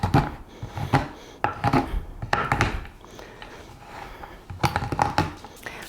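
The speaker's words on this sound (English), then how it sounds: "So I chopped up my chocolate" A knife chops chocolate on a cutting board for paleo fudge bars, a quick irregular series of close, crisp thunks and scrapes with short pauses between bursts.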